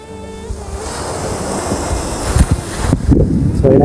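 Sea waves roll onto the shore at Mullivaikkal, a loud continuous surf wash with heavy wind buffeting the microphone, swelling louder toward the end; no one speaks.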